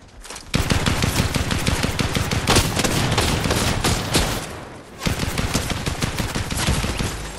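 Rapid automatic fire from a submachine gun in Fortnite, a dense continuous burst of loud close shots with a brief pause before the shooting resumes.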